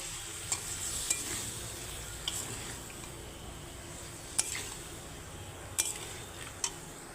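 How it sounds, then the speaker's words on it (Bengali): Spice paste being sautéed and stirred in a pan with a little water for a rohu fish curry, a low soft sizzle under a few light metallic clinks of a spatula, near and fairly quiet. "এখন আমি ভালো করে একটু কষিয়ে নেব আর অল্প জলও দিয়ে দিচ্ছি"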